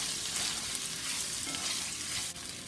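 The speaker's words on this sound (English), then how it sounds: "we're going to add in 2 cups of long grain white rice that I washed. Give that a quick stir." Washed long grain white rice stirred in a pan of hot oil, frying with a steady close sizzle throughout and a brief scrape of stirring near the end.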